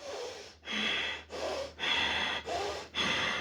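Continuous conscious pranayama breathing, with six forceful inhalations and exhalations through the nose following each other in an unbroken loop with barely a pause between breaths, loud, close and breathy, and no talking.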